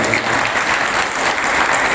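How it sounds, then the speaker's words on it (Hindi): Loud, steady applause from an audience at a Hindu religious gathering, greeting the arrival of a Mahamandaleshwar swami, filling the full two seconds with dense clapping. "एक बार जोरदार ताली बजा दीजिए।"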